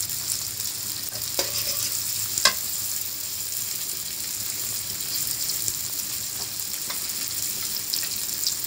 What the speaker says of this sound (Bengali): হালকা করে জিরে ফোড়ন দেব।